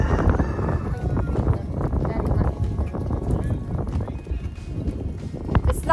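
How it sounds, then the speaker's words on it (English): Cows run across a farm on a cold winter day, a steady rumble of hoofbeats and rustling up close, mixed with wind buffeting and occasional animal calls. "Cows running."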